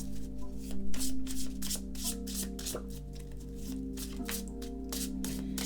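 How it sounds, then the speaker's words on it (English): A deck of oracle cards is shuffled by hand, giving quick, crisp riffling bursts and soft card-on-card rubs in a steady rhythm, close and fairly quiet, with no talking. "I'm going to give these a good shuffle."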